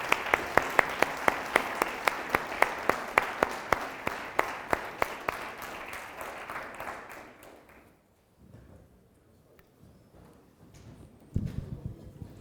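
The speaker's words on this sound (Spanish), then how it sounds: "Le damos un fuerte aplauso" A lecture audience claps after an artificial intelligence talk, the applause loud and rhythmic at first, then thinning and dying away to near silence with a brief bump of room noise at the end.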